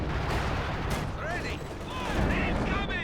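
An artillery barrage pounds a base in Company of Heroes 2, a dense roar of overlapping blasts and rumbling impacts with whistling shells, while a voice talks over it.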